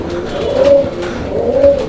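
Pigeons coo in a loft where they are laying eggs, two clear, close calls about a second apart over steady background noise.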